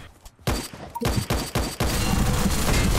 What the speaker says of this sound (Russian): Сам себя чуть не взорвал.